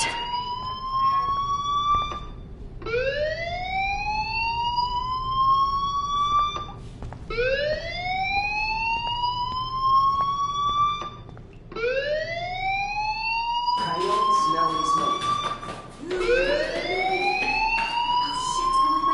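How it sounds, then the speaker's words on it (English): School fire alarm in the video game Life Is Strange, a loud rising electronic whoop repeating about every two and a half seconds, five cycles with a harsher burst near the end, no voices. "Hey, do you hear that fire alarm? That means you should be outside."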